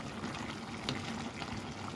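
Chicken pieces simmer in a pan for adobo, releasing their water with a faint, continuous bubbling and soft sizzle heard up close with no talking.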